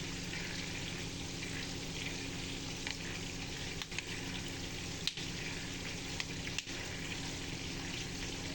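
Peanuts fry in a pan with a steady hiss and sizzle, while a spoon scrapes and stirs them in occasional soft clicks, all close and fairly quiet.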